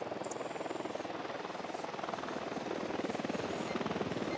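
An enemy patrol helicopter in the video game Ghost Recon Wildlands flies overhead, its rotor throbbing in a steady, loud pulse that fills the scene without any talk.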